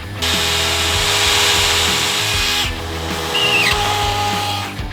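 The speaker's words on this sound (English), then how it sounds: "we better go ahead and drill a weep hole" A power drill runs loudly and continuously drilling a weep hole, its motor pitch dipping briefly as it bores, close up with no talking.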